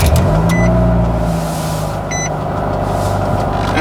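Engine of a Nissan Sentra B16 rallycross car cranking over and settling into a loud, steady idle, with brief warning chimes near the start and again midway, heard close up inside the cab.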